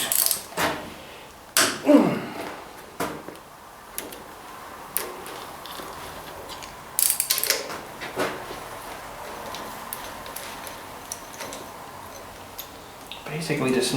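Socket wrench loosening a seal on a Ford 800 tractor, with sparse metallic clicks and ratcheting ticks close by in a quiet workshop, irregularly spaced.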